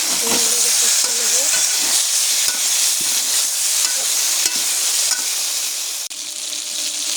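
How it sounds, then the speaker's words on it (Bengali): Ginger-cumin paste, potato and eggplant are stirred in a hot wok, giving a loud, continuous sizzle and hiss with repeated scrapes and clatters of the spatula throughout. "ভালো করে নেড়ে দেবো"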